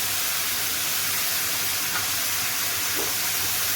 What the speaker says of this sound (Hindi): गाजरों को इसमें फ्राई कर लूँगी। साथ ही इसमें मैं ये किशमिश ऐड कर दूंगी